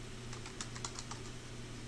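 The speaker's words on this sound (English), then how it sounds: "if I type in her email" An email address being tapped out on a computer keyboard, a quick run of light, close clicks over a faint steady hum.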